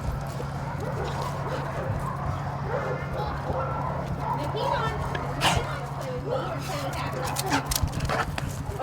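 A dog at an animal shelter whimpers and yips in short bursts close by, mixed with background chatter and shuffling noise.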